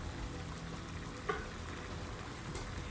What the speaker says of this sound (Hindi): मटन कढ़ाई के अंदर अब हम स्लाइसिस में कट करके टमाटर डाल देंगे।